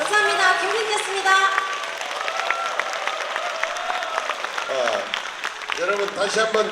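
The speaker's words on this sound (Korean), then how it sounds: "다시 한번 큰 박수로 격려해 주시기 바랍니다." An audience applauds at a lecture and singing event in a hall, a sustained wash of many hands clapping that holds steady, then briefly dips before swelling again, with speech underneath.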